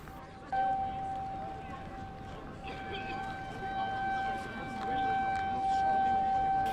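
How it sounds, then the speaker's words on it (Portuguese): Tsunami alert sirens sound from loudspeakers at Terreiro do Paço in Lisbon, a sustained steady wailing tone with faint higher overtones over a diffuse outdoor background. "tocam as sirenes nos alto-falantes instalados na zona do Terreiro do"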